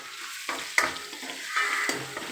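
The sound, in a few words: vegetables sautéing in a pan for fried rice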